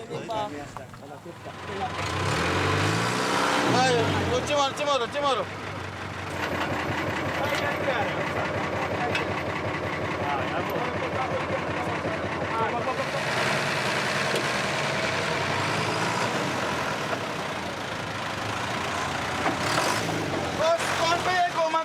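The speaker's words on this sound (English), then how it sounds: "The truck that is transporting the goods has now also got stuck." A goods truck stuck on a muddy road in Suriname keeps its engine running, a steady low idle and rev that holds for over twenty seconds, with voices talking over it.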